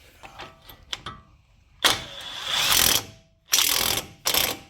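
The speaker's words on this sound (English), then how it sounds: "we're going to go ahead and tighten the new hub nut down" A ratchet tightens a new hub nut during CV axle replacement on a 2004 Saab 9-5 Aero Wagon. Several loud, close bursts of rapid clicking come in quick succession, with short pauses between strokes.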